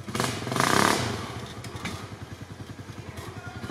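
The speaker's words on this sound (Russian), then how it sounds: "Не хватит одноцилиндрового мотора." A compact single-cylinder UTV engine revs at an off-road competition, a loud roaring surge followed by a rapid, pulsing idle chug, with clattering thumps mixed in.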